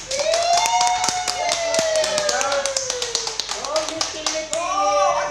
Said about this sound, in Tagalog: Palakpakan